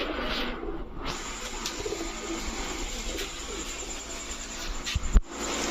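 Big-sized Tiger Golla pigeons, a pair of the same color, coo softly in a loft, low repeated murmuring calls under a steady background hiss, with a sharp knock near the end.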